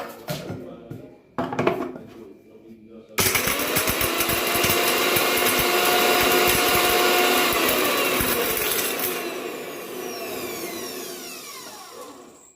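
A kitchen mixer grinder grinds almonds: after a few brief knocks and faint voices, a loud motor roar starts abruptly and holds for about six seconds, then winds down.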